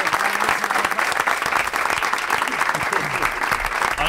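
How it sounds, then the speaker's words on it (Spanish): A studio audience at the Spanish comedy talk show La Vida Moderna breaks into steady, dense applause that fills the whole moment with continuous clapping and no break. "un fuerte aplauso para Ramón Mairata."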